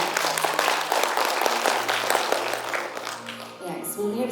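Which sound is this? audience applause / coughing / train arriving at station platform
audience applause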